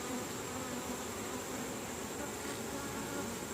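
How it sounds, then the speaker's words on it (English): Worker honey bees on a brood frame give a dense, steady buzzing close by, with no pause and no voices. "Lots and lots of worker bees."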